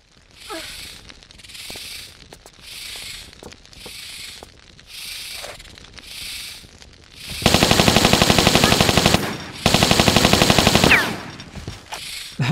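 Gunfire in a Tomb Raider custom level: a few spaced pulses at first, then two long rapid automatic bursts with a short break between them, loud and close.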